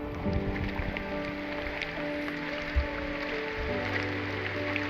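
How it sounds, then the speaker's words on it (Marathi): Steady broadband hiss of heavy morning rain at Koynanagar with scattered drops, continuous and fairly loud throughout, plus a low rumble underneath. "दुसऱ्या दिवशी सकाळ सकाळीच पावसाची जबरदस्त सुरुवात झाली होती"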